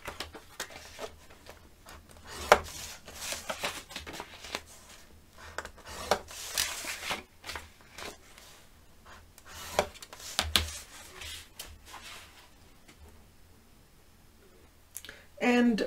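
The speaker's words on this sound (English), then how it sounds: "put the long side at the top of your scoreboard and score at 1/2 inch" A tool is drawn along a scoring board to crease patterned craft paper at half-inch intervals, making soft, close scraping strokes and light clicks in short repeated passes, all fairly quiet.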